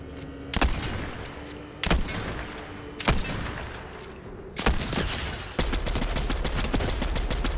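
Gunfire in Fortnite cracks out in loud separate shots roughly every second or so, then turns into a rapid, steady string of shots near the end.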